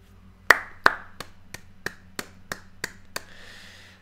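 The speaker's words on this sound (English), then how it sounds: "That's me clapping" A run of about nine sharp hand claps, the first two loudest, then evenly spaced and steady, ending with a faint rustle.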